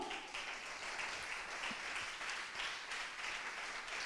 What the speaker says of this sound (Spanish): Alguien dele un aplauso a Dios